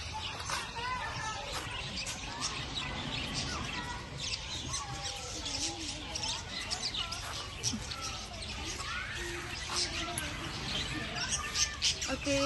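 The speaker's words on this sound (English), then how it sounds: "Okay, so now we are seeing Budgies." Budgies in the Karanji Lake aviary in Mysore chirp in rapid, overlapping bursts throughout, a busy flock close by, with people talking in the background.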